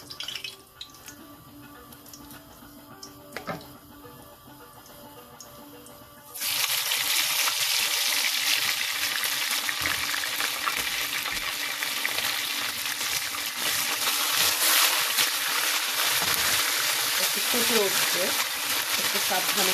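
Dried chepa shutki fish curry hitting hot oil in a pan, a sudden loud hiss and crackling sizzle that keeps going strongly after a quieter stretch at the start.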